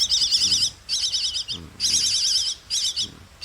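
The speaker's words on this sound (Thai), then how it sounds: "พามาดูมาชมกันนะ เจ้าลูกนกเอี้ยงที่มันตกรังนะ รอแม่มารับนะ" A fallen baby myna bird chirps close by in bursts of shrill, rapid, warbling tweets, four or five calls separated by brief pauses.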